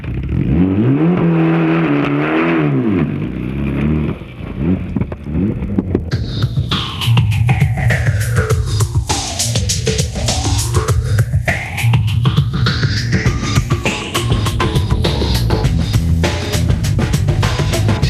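A rally car from a 1998 Donegal International Rally stage roars past at speed, its engine revving hard and sweeping up and down in pitch as it approaches and passes, loud and continuous.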